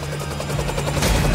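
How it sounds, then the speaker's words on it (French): A helicopter sound effect in an animation, with fast rhythmic rotor chopping that swells louder toward the end, heard alone without speech. "Un hélico sur camion."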